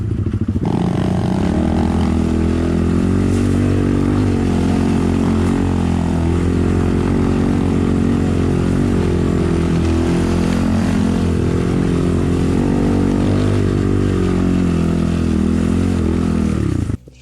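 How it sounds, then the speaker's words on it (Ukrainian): A Geon 300 motorcycle engine revs and pulls hard, a loud continuous roar rising in pitch as it accelerates, close by and steady throughout. "даєш газу і воно пре той мотоцикл"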